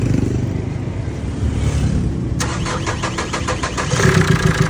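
A Chevrolet Trailblazer diesel engine with a reported black smoke and no RPM fault starts with a steady whirring crank that catches into a rattling, rhythmic diesel idle, loud and close, with no talking.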